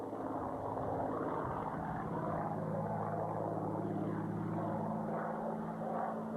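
A steady, deep droning propeller engine of a Hawker Hurricane fighter plane rumbles continuously, loud and close, with no voices.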